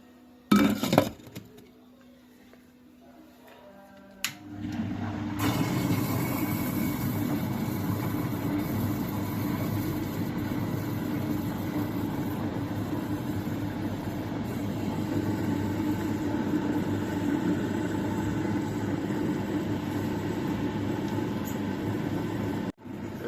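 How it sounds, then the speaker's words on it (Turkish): A mini electric butter churn making butter: a few quiet clicks and knocks, then the motor starts and runs with a steady, loud whirring rumble and light rattle until it cuts off at the end. "mini yayık makinemizle şimdi tereyağı yapmayı deneyeceğiz"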